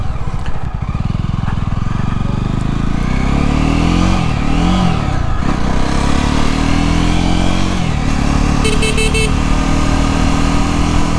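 Jawa motorcycle engine accelerating and revving hard, with a loud, continuous drone whose pitch rises and falls through gear changes over about eleven seconds.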